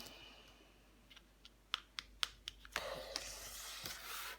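A tarot card being laid down and covered on a table, a quiet run of light, crisp taps and clicks building to a brief soft brushing rustle, close and faint with no speech.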